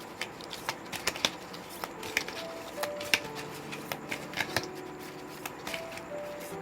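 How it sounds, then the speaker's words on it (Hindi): Tarot cards drawn and laid out during a reading, with soft, irregular ticks and flicks of card handling, close and quiet, scattered through a few seconds with light room background. "इसमें से भी 7 कार्ड लेंगे।"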